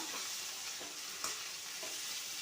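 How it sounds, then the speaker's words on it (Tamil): Steady hissing sizzle of spices tempering in hot oil for a sorrel leaf (pulicha keerai) dish, close up, with faint stirring scrapes and no voices. "இது மாதிரி தாளித்தோம்னா நல்லாயிருக்கும்"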